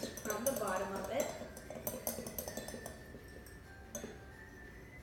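Pancake batter being whisked in a bowl, with utensil clinks and scraping against the sides through the first seconds, then a quieter patch of light taps; a person talks quietly over it.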